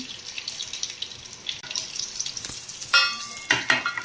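Sesame seeds, curry leaves and garlic crackle and hiss in hot oil in a kadhai, a bright sizzle that swells sharply near the end into louder bursts of spattering.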